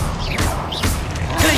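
Expelliarmus disarming spell cast in the video game Hogwarts Legacy, heard as a dense burst of magical whooshes and thumping impacts within continuous loud combat effects.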